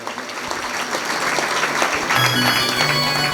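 An audience at a Bhagavat Katha religious discourse in Baramati breaks into steady applause that swells and grows fuller over a few seconds, with a faint voice beneath.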